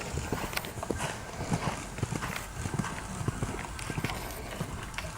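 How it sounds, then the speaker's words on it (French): Horse trotting during a dressage test, a rhythmic series of hoof clip-clops at an even two-beat pace, moderately distant and fairly soft, with faint background voices. "Entre A et K, repasser au trot"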